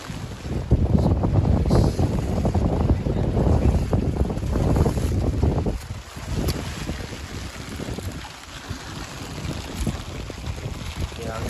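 Strong wind buffets the microphone over a rough sea, with waves crashing and surging in loud bursts while voices talk and exclaim under the roar.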